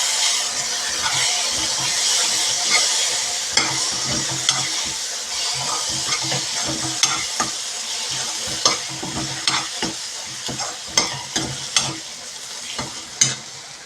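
Curry with garam masala and chili powder sizzling in a pan, a continuous frying hiss with repeated scraping knocks of a spoon stirring.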